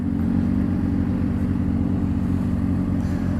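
A car cruising along a road, heard from inside with a passenger aboard, gives a steady low engine drone and road rumble that stays even and continuous throughout, with no talking.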